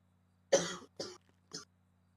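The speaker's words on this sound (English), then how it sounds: "stop coughing in my ear" Three harsh coughs close to the microphone, the first loudest and each following one shorter and softer, over a faint electrical hum, during GTA V roleplay.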